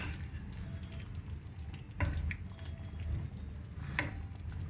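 Niğde tava cooks in an earthenware güveç, giving a low, steady sizzle and bubbling with a few soft clicks and stirring knocks, and no voices.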